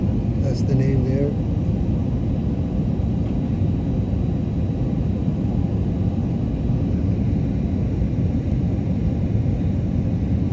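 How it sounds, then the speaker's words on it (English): Aircraft at a busy Phuket airport, a steady broadband jet roar and rumble filling the scene, loud and continuous, with a brief voice at the start. "It's a busy airport. Very busy airport."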